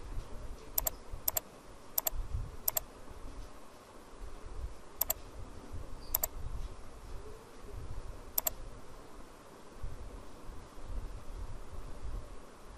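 Computer keyboard typing while editing text in Canva, with short sharp clusters of key clicks spaced through a quiet background.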